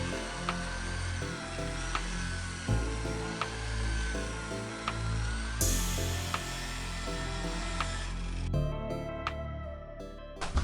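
A power sander runs steadily on a handmade surfboard, a continuous close mechanical whir with brief clicks and shifts in pitch, and no talking over it.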